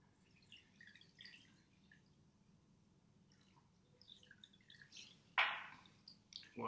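Elderberry syrup drips and trickles softly into a container, with a few louder splashy pours near the end against a quiet background.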